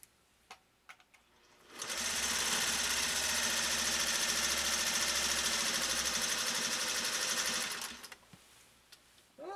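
A 1956 Singer 401A sewing machine runs steadily for about six seconds, stitching a pattern with a loud, even mechanical whir and rapid needle clatter, starting and stopping abruptly with faint handling noises before and after.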